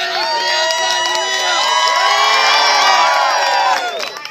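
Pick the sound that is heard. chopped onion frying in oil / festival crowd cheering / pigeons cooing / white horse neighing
festival crowd cheering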